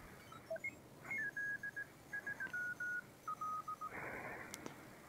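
A CW radio signal tuned on a Malahit DSP2 SDR receiver: clear steady beep tones in short and long keyed bursts, fairly close and moderately loud over a faint hiss, ending in a brief burst of noise.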